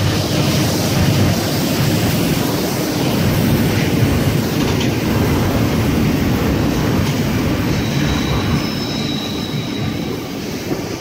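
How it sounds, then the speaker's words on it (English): A northbound freight train led by locomotive NR75 rolls past at Denistone, a loud continuous rumble and clatter of wagons with faint wheel squeal, steady throughout and slightly easing at the end. "we got NR75 leading a freight train heading north"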